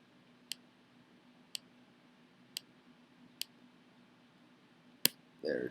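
Computer mouse clicks while inserting a screenshot through the File menu, heard as four or five sharp, isolated clicks spaced about a second apart over a faint steady hum, with a brief rustle at the end.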